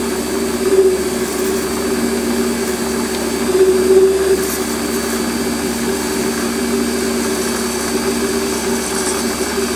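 A Warco WM180 lathe parting off a 37 mm part hums steadily with a constant motor drone and faint cutting noise throughout, no talk.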